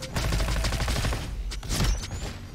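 Rapid submachine-gun fire from the Raptor SMG in a hard roguelite shooter, dense bursts of loud close shots running almost continuously, with a brief lull midway before firing resumes.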